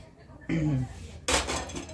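A metal cooking pot is picked up and set down in a home kitchen to make tea, giving two sharp clanks with a ringing metallic clatter, while a person talks in the background.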